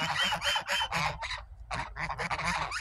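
Geese on a farm honk repeatedly in loud, close bursts, several calls overlapping in quick succession with a short pause midway.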